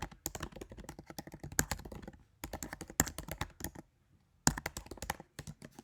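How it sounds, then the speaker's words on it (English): Bursts of close, crisp computer keyboard typing as a question is entered in Google Classroom, with rapid clicking runs broken by short pauses. "Type in your question."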